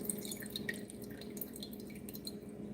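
Cooking liquid is strained off boiled vegetables as a faint, steady dripping and trickling that runs evenly without pause.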